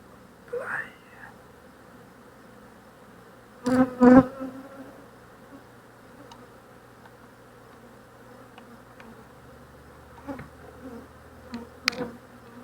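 Honey bees buzzing faintly around an open hive during a formic acid treatment against varroa mites, a thin steady drone with a few louder passes and brief handling knocks near the start.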